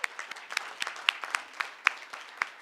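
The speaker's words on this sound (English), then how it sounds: "how about another round of applause for this great family?" Applause from the audience at a school board meeting, honoring a family: a short burst of scattered, fairly quiet clapping with distinct individual claps rather than a dense roar.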